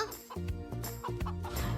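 Chickens escaped from a poultry truck in an animated children's cartoon cluck in quick, overlapping bursts, loud and close, with no talk.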